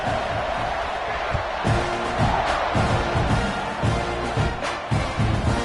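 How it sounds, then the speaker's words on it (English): Football stadium crowd at a Texas A&M versus Texas game, a steady roaring buzz after a touchdown, with a commentator's voice over the broad wash of crowd noise. "this crowd is buzzing after that last score"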